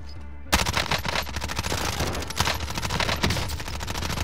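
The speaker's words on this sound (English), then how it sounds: "The first strafe of the airstrike is the most powerful kill streak." Sustained rapid automatic gunfire from an airstrike strafing run in Call of Duty: Warzone, starting abruptly after a quiet moment and rattling on dense and loud with occasional heavier impacts, no speech.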